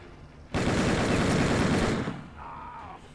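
Sustained burst of dense gunfire during a combat encounter in the gangster strategy game Empire of Sin, loud and continuous for about a second and a half, then cutting off to a quieter tail with a faint tone.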